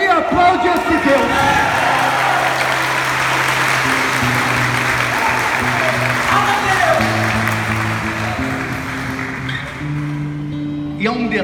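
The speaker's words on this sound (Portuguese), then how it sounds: "dá glória e aplaude esse Deus" Church congregation applauding and cheering together, a loud, sustained wash of clapping and voices that fills the space and fades slightly toward the end, with music tones underneath.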